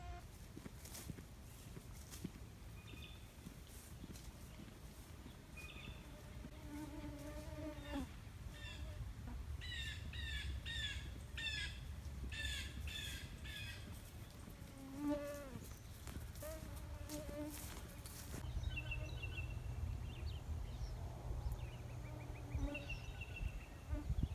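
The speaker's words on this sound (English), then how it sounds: "I've got to say, I have not experienced mosquitoes like this in a long time." A swarm of mosquitoes hums steadily at a historic shipbuilding site, a continuous droning buzz that runs throughout, with scattered high chirps and whistles layered over it.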